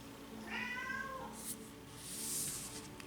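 A cat meows once, close and fairly quiet, in a short rising call against a soft indoor background with a faint rustle afterward.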